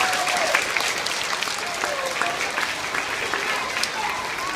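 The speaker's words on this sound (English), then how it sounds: "please give them a round of applause for contributing to this book" An audience at a children's school play, honouring kindergartners, breaks into sustained applause, a dense wash of clapping from many hands at moderate volume with a few faint voices mixed in.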